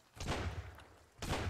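Two loud, booming shotgun blasts in Sunkenland, about a second apart, each with a rough, fading tail. No one speaks over them.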